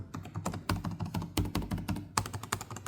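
Fast typing on the keyboard of a Lenovo Legion Slim 5 14-inch Gen 8 laptop, a close, steady run of crisp, tactile key clicks with a few heavier thunks, no voice over it.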